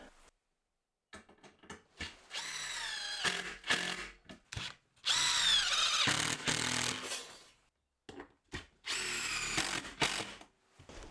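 A power drill drives screws through a wooden batten into a workbench in several bursts of whining motor, each rising and falling in pitch, separated by quiet gaps and short clicks, close and loud.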